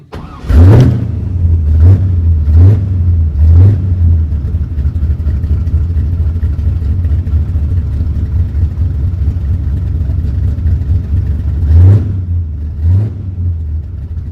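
A classic show car engine cranks and catches, then settles into a steady deep rumble, with several sharp throttle blips early on and two more near the end, loud and close with no talking.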